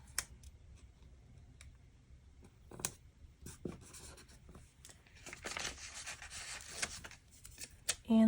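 A pen writing in a planner, soft scratchy strokes and small taps close up, irregular with brief pauses, and a louder stretch of scribbling partway through.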